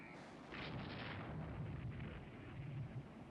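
Warship guns firing in the naval game Rule the Waves 3, a low, rumbling boom that swells and lingers under continuous battle noise, heavy and distant-sounding rather than sharp.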